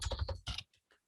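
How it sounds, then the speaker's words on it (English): Fingers type on a computer keyboard in a quick, close burst of clicking keystrokes, then a couple of softer, isolated taps before it goes quiet. "I can just type over whatever I want to do."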